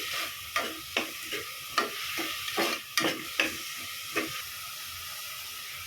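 Onions frying in a pot for pav bhaji, a soft continuous sizzle and hiss broken by a dozen sharp scraping stirs of a spoon at uneven intervals, close by with no talking.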